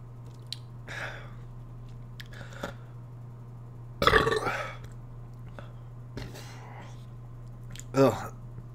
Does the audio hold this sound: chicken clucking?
no